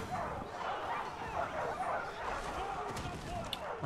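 Barbarian war dogs in the Total War Arena battle game yip, bark and whimper in a busy cluster amid battle noise, while someone talks over them.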